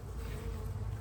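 Honeybees buzz in a steady, dense drone close to an open beehive whose comb is being capped, the hum continuous and fairly loud with no voices.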